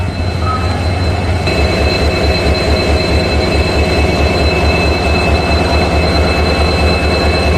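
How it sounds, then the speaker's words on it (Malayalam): A Golden Rock shed diesel locomotive idles with a deep, throbbing engine hum, a loud continuous pulsing drone with steady high whine tones above, heard up close for the whole stretch without talk. "ഈ ഒരു ഡീസൽ ലോക്കോയുടെ ഹമ്മിങ് ഉണ്ടല്ലോ, അത് രക്ഷയില്ലാത്ത ഹമ്മിങ് ആണ്."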